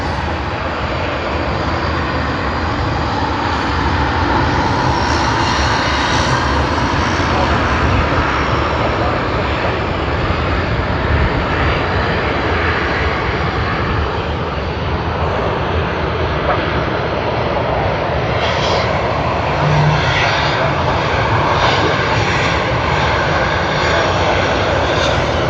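A Latam Airlines Boeing 787-9 in Harry Potter livery is lined up on the Sydney Airport runway for departure to Santiago, its jet engines producing a continuous, loud, broad roar that holds steady throughout.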